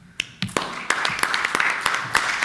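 Applause in a legislative assembly during an extraordinary session, scattered sharp claps that start sparse and thicken into continuous clapping, fairly close, with a faint murmur of voices.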